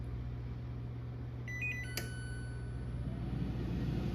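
A Cosori TurboBlaze air fryer is switched on and set, giving a few short electronic beeps close by over a steady low hum.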